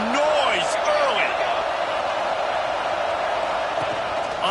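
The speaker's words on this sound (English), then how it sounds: "This crowd bringing the energy and noise early." Stadium crowd at a Notre Dame versus Navy college football game roaring in a steady, dense wash of cheering and whistles, loud and continuous throughout with no break.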